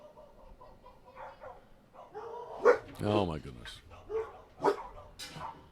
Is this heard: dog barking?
yes